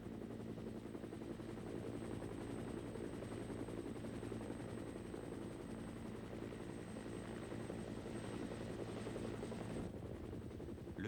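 A military helicopter over Korea flies with a loud, steady rotor and engine drone that fills the whole stretch without pause, and no voices are heard.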